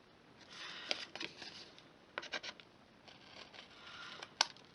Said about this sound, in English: back in with the scissors and just trim